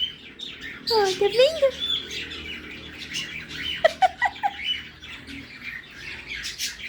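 A pet cockatiel gives sharp squawks and short chirping calls in scattered bursts, close by, while a person speaks briefly.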